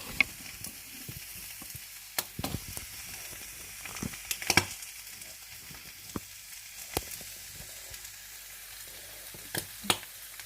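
Tyrolean gröstl fries in a pan with a low steady sizzle, broken by occasional sharp clicks and taps of utensils, close and alone without any voices.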